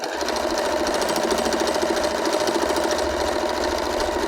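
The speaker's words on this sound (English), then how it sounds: "now I'm going to sew this down with the foot" Sewing machine stitching fabric under the presser foot while binding a zip, a loud, rapid, even mechanical whirring and clatter that runs continuously for several seconds, close by and with no speech.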